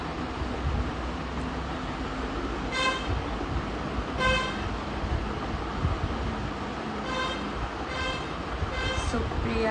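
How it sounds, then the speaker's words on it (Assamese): Steady roadside traffic rumbles past outside a house while car horns toot several times, a few sharp honks rising over continuous road noise. "ৰাস্তাইদি পুৰা গাড়ী গৈ আছে মাত আহি আছে"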